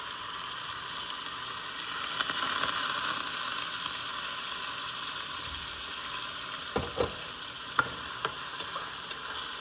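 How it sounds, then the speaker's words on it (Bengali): Bay leaf and cardamom pods frying in a little hot oil for goat kacchi biryani, a steady close sizzle with a few sharp spoon scrapes and pops near the end. "তেলের মধ্যে আমি হচ্ছে একটা তেজপাতা আর 2-3টা এলাচি দিয়ে আমি আগে এটাকে ভেজে"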